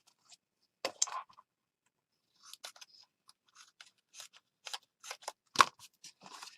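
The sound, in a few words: cutting paper with scissors for a junk journal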